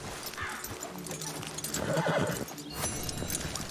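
A white horse whinnies in Red Dead Redemption 2, a loud, close neigh rising and wavering mid-clip over steady hoof clip-clops and ambient game sound.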